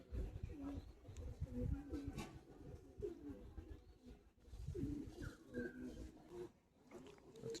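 Madrasi and Giribaz pigeons cooing in a loft, soft low repeated coos under someone talking almost continuously, faint and close.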